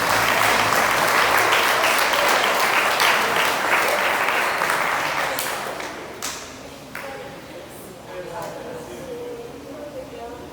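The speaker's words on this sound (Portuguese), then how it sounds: "Palmas para Jesus, amados" A church congregation applauds during a couples' worship service, loud steady clapping filling the room before fading and thinning out toward the end.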